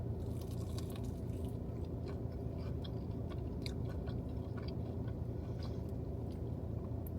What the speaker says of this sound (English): I feel like we should try a crispy wing. These look very crispy.